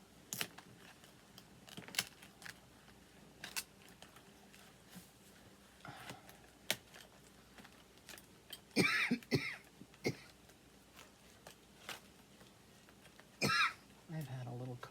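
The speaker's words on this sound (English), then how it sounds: "I've had a little cough all day today." A person coughs a few times at a quiet desk while setting up a paper planner, short throaty bursts scattered between soft tapping and handling clicks.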